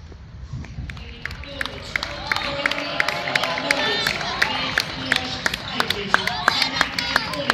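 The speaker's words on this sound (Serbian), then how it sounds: "Objektivna publika tapše i pozdravlja igrače Čačka 94." An audience claps for the Čačak 94 basketball players, with sharp, rhythmic claps ringing out over a steady murmur of crowd babble and voices.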